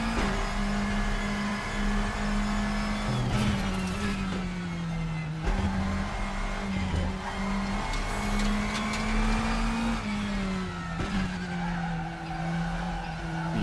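A race car engine in the RaceRoom sim racing game hums loudly and continuously, its pitch dropping at shifts and corners, with bursts of tyre skidding and squeal throughout.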